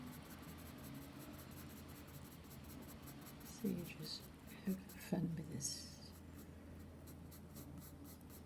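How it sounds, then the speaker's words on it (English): A 2B pencil scratches softly on paper while owl head feathers are sketched, with quiet, irregular strokes beneath a person speaking calmly. "This is a 2B pencil."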